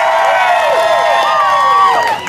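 A loud crowd at a Cancun hotel dance show cheers and whoops for the first dancer, with voices rising over one another and no break for the full stretch.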